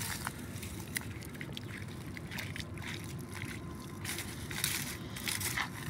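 Irrigation water in a melon patch trickling and seeping past dry leaves, a faint wet gurgle with soft crunching and rustling over low background noise.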